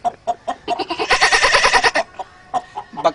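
A vocal imitation of a goat bleating: a loud, wavering, pulsed bleat in the middle, framed by shorter bleat-like bursts before and after.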